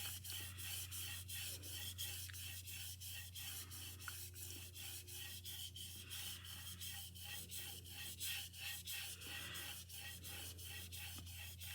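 Knife blade stroked back and forth on a sharpening stone, a quiet rhythmic scraping repeated steadily throughout over a low constant hum, with no talking.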